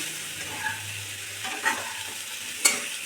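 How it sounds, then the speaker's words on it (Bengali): Pumpkin pieces frying with turmeric and Kashmiri chilli powder give a soft steady sizzle, broken by a few sharp scrapes and clinks of stirring, with no talking. "দিয়ে ভালো করে ভেজে নেব"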